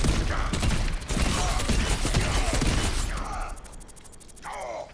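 Junker Queen's weapon in the Overwatch Stadium mode fires a dense burst of gunshots with mechanical clatter, loud and close, before thinning into a few sparser clicks and effects.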